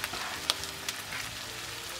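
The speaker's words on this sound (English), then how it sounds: "Just stir fry it," Chives and eggs stir-frying in a pan give a steady close sizzle with a few sharp clicks of stirring, heard alone without talk.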